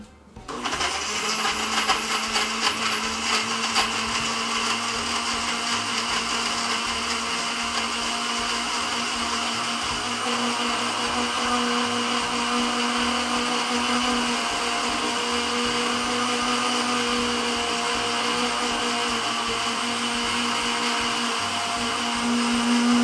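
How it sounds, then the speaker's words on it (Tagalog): Blender whirring lemon mint juice with water, starting abruptly and holding a loud, steady motor whine for over twenty seconds without talk. "biblend na natin siya, guys"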